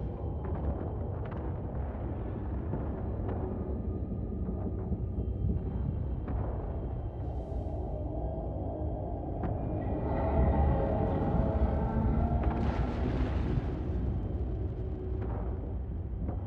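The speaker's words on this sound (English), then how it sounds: "A lot more explosions now." A Titan Taranis ship blowing up in a video game, a dense continuous rumble of explosions with rolling low booms that swell louder toward the end, heavy and unbroken.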